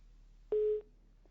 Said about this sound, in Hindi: सेवा सिंह ने फोन किया।